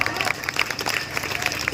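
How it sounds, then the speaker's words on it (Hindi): Applause and scattered clapping from an audience at a school gathering in Salehpur, sharp claps spread through a steady crowd wash, while a voice carries on over it. "तालियां बजाओ।"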